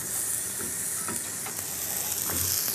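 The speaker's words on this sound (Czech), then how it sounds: "Pomalu restujeme." Cashew nuts and pear pieces sauté slowly in a small frying pan, giving a steady, close sizzle with soft crackles that carries on throughout.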